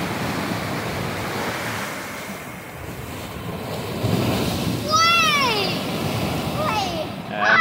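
Big storm waves pound the Scarborough north side shoreline in a steady, loud roar of surf, heavy wind rumbling across the mic, with a swell surging midway and voices calling out briefly near the end.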